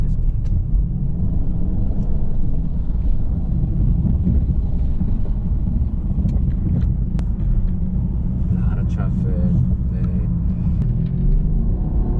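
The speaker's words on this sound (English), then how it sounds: "What I wanted to do is I wanted to go to a test drive with Kenny and myself" Mercedes-Benz CLS on a test drive: steady low engine and road rumble with wind noise, continuous and moderately loud throughout, no talk.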